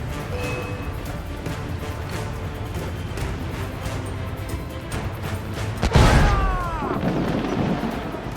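A heavy ship cannon boom bursts out near the end over a constant rumbling background in Assassin's Creed 4 Black Flag, followed by a ringing, descending tail.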